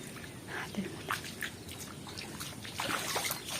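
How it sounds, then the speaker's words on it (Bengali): Heavy rain water trickling and dripping steadily, with scattered splashes and a soft continuous patter throughout, close by and moderately quiet, with no clear talk over it. "দেখো প্রচুর বৃষ্টি প্রচুর বৃষ্টি"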